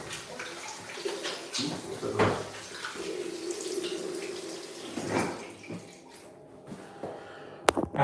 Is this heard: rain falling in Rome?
no